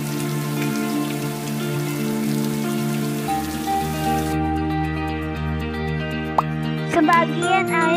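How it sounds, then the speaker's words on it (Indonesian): Rain pattering and dripping steadily beneath gentle background music, with a few brighter plinks of drops near the end. "Maka hujan turun di darat atau gunung."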